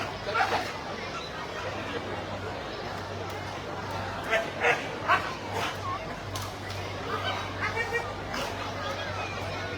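Police dogs barking at a police dog demonstration during a public open day in Macau: scattered sharp barks and yips over a busy murmur of crowd chatter.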